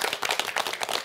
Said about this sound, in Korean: 한번 박수 한번 하시죠.